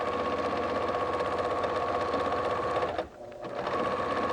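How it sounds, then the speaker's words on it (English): A sewing machine stitches quilt fabric in a steady, fast mechanical whir that runs continuously, briefly slows and dips around the middle, then resumes at full pace. "I think I have about one more row of stitching left"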